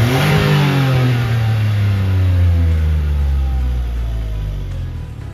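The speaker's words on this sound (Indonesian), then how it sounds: "setelah kita startup, ternyata mesinnya sendiri untuk ukuran 3 silinder, dia getarnya itu nggak separah 3 silinder lain" A Mitsubishi Mirage three-cylinder engine revs just after startup, a loud, close, throaty rise that eases back toward a lower hum over a few seconds, with no talk.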